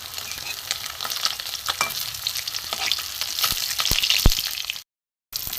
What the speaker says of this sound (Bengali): গঙ্গার মাছ একটু কড়া করে না ভাজলে ভালো লাগে না।